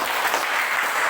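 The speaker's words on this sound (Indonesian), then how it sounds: "tepuk tangan untuk kita." Classroom applause, a dense, steady patter of many hands clapping close by for the whole short stretch, with no talking.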